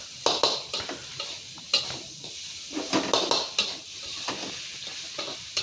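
Salt and pepper tofu being tossed in a stir-fry pan, with repeated scraping, clattering strokes over a steady sizzle, close and fairly loud, with no talking.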